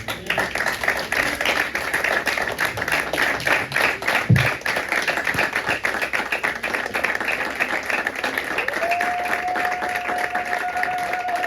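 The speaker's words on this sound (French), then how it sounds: "Est-ce que nous pouvons applaudir la parole de Dieu?" A church congregation claps during a Sunday service, steady applause at moderate distance, with a brief low thud partway through and a sustained tone entering near the end.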